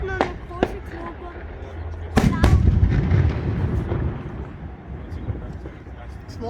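Fireworks at a city festival in Dresden, several sharp distant bangs followed by one loud deep boom with a rumbling tail, over crowd chatter and nearby talking.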